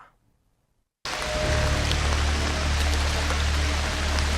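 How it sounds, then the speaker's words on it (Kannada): Heavy monsoon rain pouring in Kodagu, beginning abruptly after a brief near-silence, then a dense, loud, continuous hiss of downpour with scattered drops. "ಕೊಡಗು ಜಿಲ್ಲೆಯಾದ್ಯಂತ ಕೃಷಿಯ ಮಳೆ ಅಬ್ಬರ ಮುಂದುವರೆದಿದೆ"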